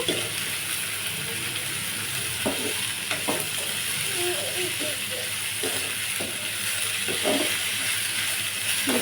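Onions and curry leaves fry in a pan in a steady, close sizzle, broken by several scraping stirs of a spatula against the metal and faint background voices.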